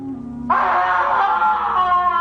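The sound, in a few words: screams of sacrificed people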